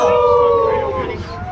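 A wolf howls back in one long, loud, falling tone with harmonics, close by, sliding downward and fading near the end.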